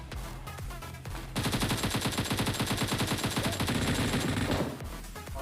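Kar98 sniper rifle and other gunfire in the Free Fire battle royale video game, a dense burst of rapid repeated shots over game background sound, loud and sustained for several seconds before tapering off.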